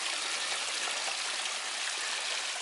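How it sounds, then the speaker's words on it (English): Water from a small backyard pond waterfall runs steadily over rocks in an even, continuous rush, close and unbroken, with no voices. "Got the waterfall pretty much completely assembled"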